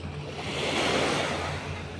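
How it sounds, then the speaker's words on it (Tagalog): Strong ocean waves surge and crash nearby at Anawangin, Zambales, in a continuous roar, with wind buffeting the microphone. "Ang lakas ng alon."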